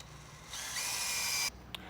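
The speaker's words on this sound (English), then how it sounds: "I'll drill through the center and then step up to a 1/4 inch." A power drill bores a 1/4 inch hole through the center of a steel front bumper on a third-generation Toyota Tundra, a steady close whine for about a second before cutting off, then a brief tap.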